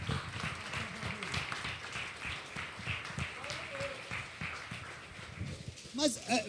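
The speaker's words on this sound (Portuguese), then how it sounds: "Ela merece, a palavra merece todos os aplausos." Church congregation applauding during a sermon, scattered clapping mixed with voices and movement in a reverberant hall, fairly faint and uneven, with a brief tonal squeal near the end.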